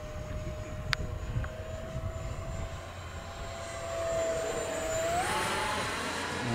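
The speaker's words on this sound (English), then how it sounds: "I'll do a full throttle pass coming this way, Frank." Steady whine of an FF-117V2 RC jet with an electric ducted fan flying overhead, a thin tone held for several seconds before sweeping upward as throttle increases, moderately distant over outdoor background noise.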